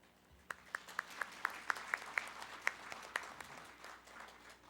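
At the founding assembly of the South Jeolla residents' self-governance association, a handful of distinct claps ring out in a slow, steady rhythm for an introduced guest, sparse and moderately close.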